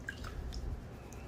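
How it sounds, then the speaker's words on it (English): Murky water poured off a gold pan of Juneau, Alaska pay dirt, a brief wet splash with a few small drips, close and quiet, with no voices. "Dump the murky water off."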